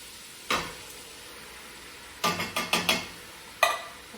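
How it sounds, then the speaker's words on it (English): Diced tomatoes with their juice and chopped carrots, celery and peppers tip into a hot cooking pot for cabbage soup, giving a lone thud, then a quick cluster of wet clunks and a final splat over a low sizzle. "We're also going to dump in the diced tomatoes with the juice."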